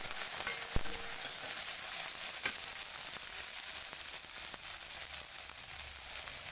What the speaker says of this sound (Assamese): এইখিনি মই ভালদৰে ভাজি লওঁ।